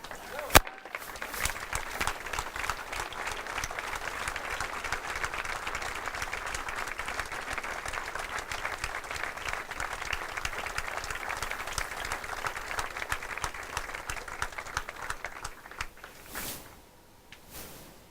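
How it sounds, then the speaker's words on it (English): A banquet audience at a sports hall of fame dinner rises to its feet in sustained applause, dense steady clapping from a large crowd lasting over fifteen seconds before tapering off, with scattered voices mixed in. "let's stand up and give them a round of applause"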